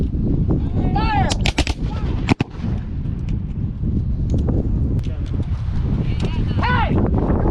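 Musket volley at a Civil War reenactment outdoors in wind, a single sharp gunshot crack near the middle amid heavy wind noise on the microphone and distant voices.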